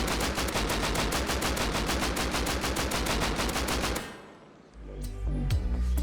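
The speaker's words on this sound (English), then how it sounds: "there is a lot of hit marker sounds going on" Rapid automatic gunfire with hit marker sounds in the Rust video game during a base defense, a loud sustained burst of dense shots for about four seconds, then a brief dip before a few heavier low impacts.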